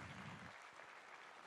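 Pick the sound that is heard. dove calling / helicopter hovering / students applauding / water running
students applauding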